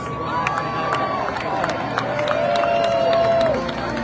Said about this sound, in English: give her the biggest round of applause and reception going